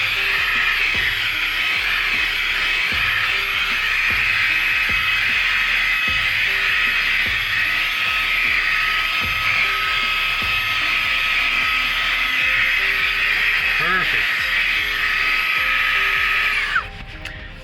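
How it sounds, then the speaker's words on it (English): A Fanttik Slim V8 Apex portable car vacuum runs on high mode over a dirty floor mat, giving a loud, steady high-pitched motor whine with no break before it cuts off near the end. "let's go ahead and use high mode on the vacuum"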